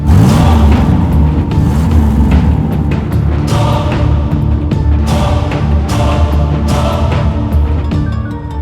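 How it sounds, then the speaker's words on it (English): A 2009 Toyota Corolla engine revs loudly close by, a continuous rumbling drone rising and falling in repeated throttle blips across several seconds, with no voices. "rev the engine"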